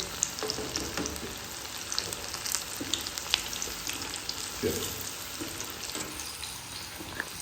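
Paneer frying in fully heated oil, a steady close sizzle with light crackling and stirring throughout, with no voices.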